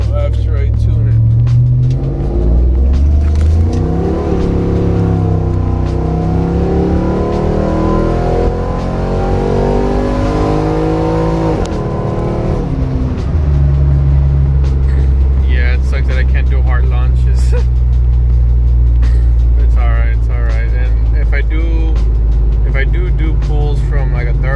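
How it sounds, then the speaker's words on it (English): A car with a cammed 5.3 V8 on 4.56 gears accelerates from half to full throttle, a loud, continuous engine roar rising in pitch through the first half, then settling into a deep, steady drone. "I'll do like a half throttle, ease into full throttle, just so you guys can get kind of an idea how it moves."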